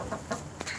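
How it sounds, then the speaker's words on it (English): A rooster gives a few soft, short clucks inside a chicken pen, fairly quiet against a steady background hum. "He's a good rooster."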